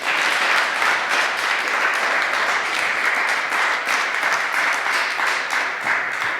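An audience applauds steadily as a speaker named Jon Meacham is welcomed, a dense, even wash of clapping that holds at full volume throughout with no voices over it.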